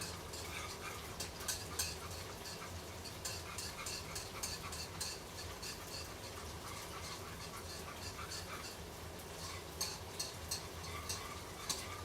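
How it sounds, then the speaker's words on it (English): A whisk scrapes and clicks through a garlic parmesan sauce in a hot pan, a busy run of rapid metallic taps and swishes with a low background sizzle. "we're gonna give our sauce one last whisk"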